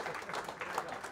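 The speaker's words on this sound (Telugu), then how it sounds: "దయచేసి అందరు క్లాప్స్ కొడుతున్నారు సార్ కూర్చున్నంత వరకు." A short burst of steady audience clapping at a felicitation ceremony held by an all-India tribal employees' association, a dense even patter with no voices above it.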